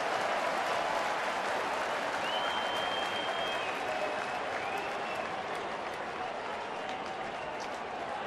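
An opening-day baseball crowd applauds at Comerica Park, a dense, steady wash of clapping and cheering from a large stadium audience that holds at an even level throughout, with a faint whistle over it.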